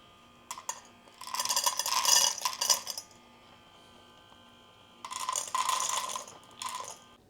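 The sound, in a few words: automatic cat feeder dispensing dry food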